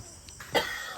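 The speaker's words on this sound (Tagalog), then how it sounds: "Inuubo siya." A single short cough, close and distinct, rises out of quiet background noise.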